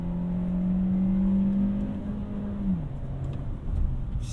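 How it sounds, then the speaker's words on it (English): A 2021 VW Golf MK7 with a six-speed manual accelerates hard, its steady engine drone holding near and loud, then dropping in pitch as it shifts or eases off, with possible tire noise mixed in on a road. "I just love that it still roasts the tires."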